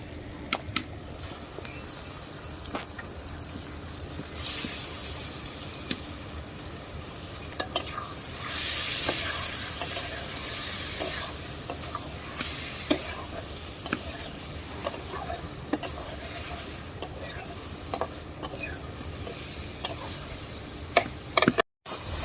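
Small mixed fish stirring and frying in a thick spiced masala in a pan, with a steady close sizzle and repeated scraping strokes and clicks of the spoon throughout, and no talking.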